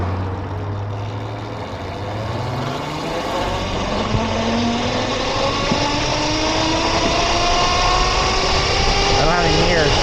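A Lark Machine Co electric motorcycle on a test ride gives a rising electric motor whine that climbs in pitch as the throttle opens, over steady wind and road rumble, loud and continuous.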